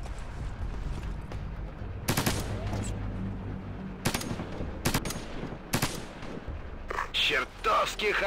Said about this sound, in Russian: Чертовски хороший выстрел, капитан.